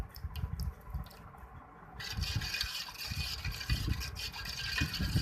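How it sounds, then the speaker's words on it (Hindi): Water being poured into yogurt for dahi chana chaat, a steady liquid splash and trickle that grows fuller partway through, close by in a home kitchen. "थोड़ा सा इसके अंदर पानी डालेंगे"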